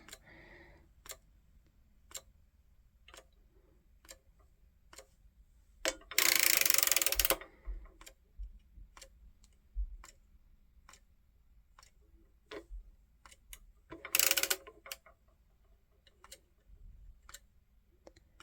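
Circular sock knitting machine cranked by hand while knitting a full sock with tuck stitches, giving a steady series of sharp mechanical ticks and clicks with two louder, longer rattling bursts of the turning mechanism.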